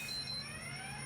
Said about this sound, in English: In my background, you can hear the alarm system going off.